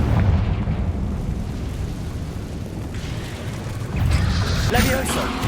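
A booming fire-spell explosion from the Confringo charm in Hogwarts Legacy, a steady roaring rumble with a louder burst near the end, heard without speech.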